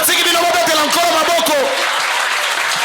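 Church congregation clapping and cheering during a Sunday service, loud sustained applause with a voice calling out over it at the start, easing into steadier clapping.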